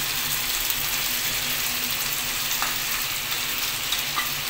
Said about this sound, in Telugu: మన చికెన్ ఇప్పుడు ఇంకా ఫ్రై అయినట్టే